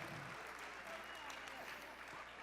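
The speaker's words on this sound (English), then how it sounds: "Big round of applause." At the Blue Ribbon Bash, an audience applauds in a faint, steady wash of clapping that sounds distant and continuous.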